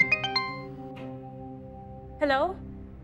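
A phone ringing indoors, a short electronic tone chiming a few times and then sustaining, followed by a rising warble as people talk nearby.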